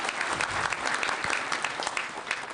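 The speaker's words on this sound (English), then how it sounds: "Another clap for him." Sustained applause from a graduation ceremony audience at the Kenya Institute of Management, a dense, steady wash of clapping filling the whole stretch without pause.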